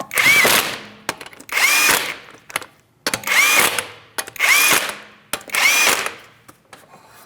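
A power tool drives the 19mm lug nuts on a 2016-2025 Chevrolet Malibu wheel in five loud, separate whirring bursts with short pauses between them.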